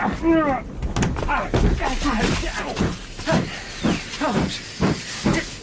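A moving steam train hisses loudly and close, with rhythmic chuffing bursts of steam and a rumbling carriage, while voices speak over it in a radio drama.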